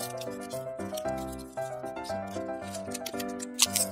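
Scissors snipping a circle out of paper: repeated crisp cutting strokes in an uneven rhythm, close by, partly under steady background music.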